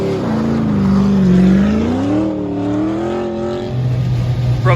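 A Datsun 240Z runs an autocross course, its engine note rising and falling through close, loud revs, then settling into a steady lower drone near the end.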